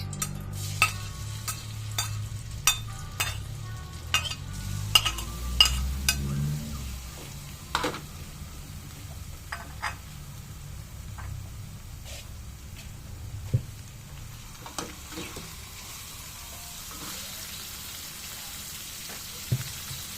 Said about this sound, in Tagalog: Nagigisa po ako ng bagoong